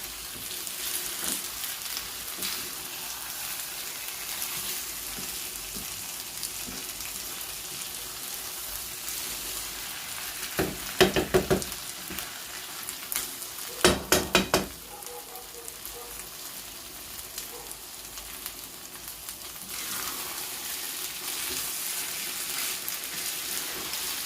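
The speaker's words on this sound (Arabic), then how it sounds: "باش نقليو هذا الرز مزيان باش يعطينا نتيجه رائعه" Rice frying in a pan for Spanish paella makes a steady, rain-like sizzle throughout, with a couple of brief louder bursts of clatter partway through.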